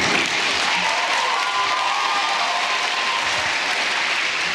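A debate audience breaks into sustained applause, a dense wash of clapping from a large crowd that holds steady and then slowly tapers.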